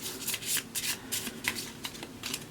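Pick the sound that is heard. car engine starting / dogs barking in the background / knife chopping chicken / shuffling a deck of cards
shuffling a deck of cards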